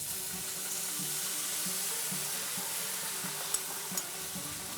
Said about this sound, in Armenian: Արդեն տապակվել է նուշը, թեթևակի տապակվել է նաև։